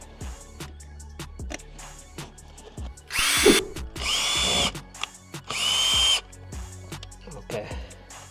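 A power drill drives screws while cupholders are installed in an 80 Series Land Cruiser, firing in three short whirring bursts between quieter handling noises and a little talk.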